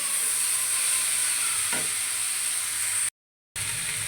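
Tomatoes tipped into a pan of frying cauliflower hiss in a steady, loud sizzle, with one soft knock partway through and a short silent gap near the end.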